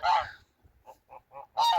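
Geese on a farm give several close honks: a loud call, a few softer ones in quick succession, then another loud honk at the end.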